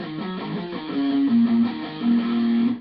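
A short melodic electric guitar riff plays alone, a few picked notes sliding between pitches with a mellow, slightly overdriven tone.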